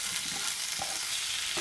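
Onion and tomato being sautéed in a pan for mushroom gravy, with a steady hissing sizzle and a few soft stirring scrapes, close and continuous.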